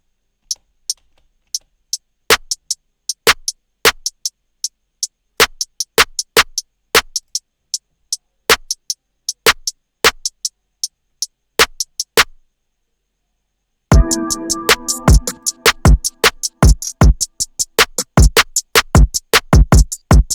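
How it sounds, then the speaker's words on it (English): Sharp, dry percussive clicks tap out a sparse rhythm, then a fuller, busier drum pattern with richer tones kicks in and keeps a quick groove. "within the patterns of the drums, this is how they sound like."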